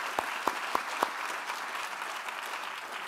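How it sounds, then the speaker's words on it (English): An audience in Kansas City applauds veterans: a few sharp, distinct claps open into steady, dense applause that holds at an even level throughout. "give them a big round of applause for protecting our country"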